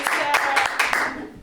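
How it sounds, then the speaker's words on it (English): Brief clapping from a small lunch-and-learn audience welcoming a speaker, a few distinct claps standing out over a thin patter, with a voice cheering near the start before it fades out. "I love being welcomed by people clapping for me."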